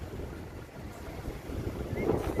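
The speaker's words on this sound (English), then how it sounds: "It's windy down here too." Wind blowing at the seaside near a pier, a steady low rumble buffeting the microphone, growing slightly stronger toward the end, with no talk.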